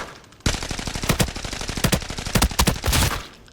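Automatic assault rifle fire from the shooter game Arena Breakout, with sharp, close shots in rapid bursts and short pauses that start abruptly after a half-second lull, loud and continuous to the end without talk.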